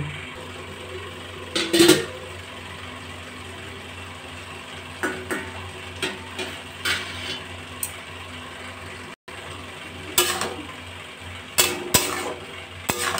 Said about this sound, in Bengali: এবার ঢাকনাটা খুলে দেব